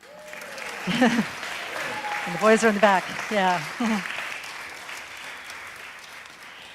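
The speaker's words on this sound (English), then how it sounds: "Let's give them another round of applause." An audience at a service-pin recognition gathering claps steadily throughout, a broad wash of applause under someone talking and singing briefly in the foreground.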